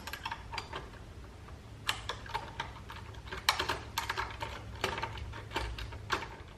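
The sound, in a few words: loosening Allen head screws with Allen key on motorcycle bracket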